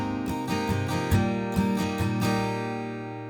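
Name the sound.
guitar strumming a chord progression in 3/4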